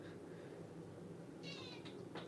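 A cat outside a door gives a few short, faint meows near the end over a steady low room hum. Earlier, a fainter cry can be heard.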